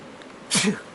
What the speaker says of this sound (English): We've had some sneezes up here too.